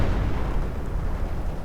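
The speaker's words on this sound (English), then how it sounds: "So much artillery." Artillery barrages in the Company of Heroes Eastern Front mod, with mortar and howitzer shells, form a dense, continuous rumble of overlapping booms and blasts, loud and unbroken with no speech.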